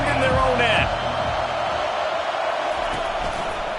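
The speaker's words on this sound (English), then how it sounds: "The roar of the crowd trying to fuel this defense to keep them pinned in their own end." Stadium crowd roaring in an American football video game, a loud, sustained wash of cheering and noise with brief voice-like tones early on, filling the whole stretch at steady volume.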